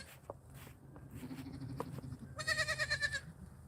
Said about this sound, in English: baby goats are not like baby humans